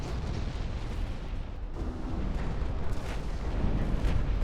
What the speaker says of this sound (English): You can see there's a lot of shooting going on.